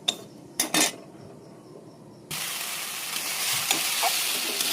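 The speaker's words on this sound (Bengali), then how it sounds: "এটা এখন একটু নাড়াচাড়া করে নেব।" A spoon stirs a green paste of coriander leaves, garlic, green chilli and ginger in an oiled kadai with carom and cumin seeds, a few scraping clinks followed by steady close sizzling and frying.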